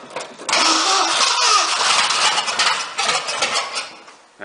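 A 1976 Ford truck engine cranks and catches, then runs loud and rough with a broad roar that dips and surges, close by and without talk.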